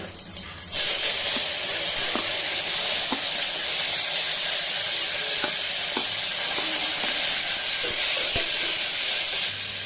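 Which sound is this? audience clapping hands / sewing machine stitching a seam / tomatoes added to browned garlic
tomatoes added to browned garlic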